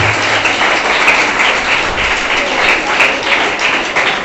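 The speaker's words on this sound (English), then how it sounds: "Clap for him." A school class in Patna claps for a student's correct quiz answer, with a steady patter of many hands in a room continuing at even loudness for several seconds.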